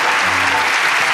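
Studio audience applause on a Turkish television talk show, a dense and loud wash of many hands clapping at once, held steady and close for about a second.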